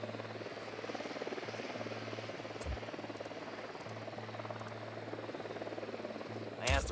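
A helicopter in the video game Ghost Recon Wildlands gives a steady, fairly faint rotor drone throughout, with brief clicks and a louder burst near the end.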